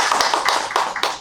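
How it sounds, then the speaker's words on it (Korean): Brief clapping at a 2021 Daejeon sustainable development seminar, with sharp, evenly spaced claps as a speaker is welcomed to the stage, heard alone without talk. "박수로 한번 맞아주세요"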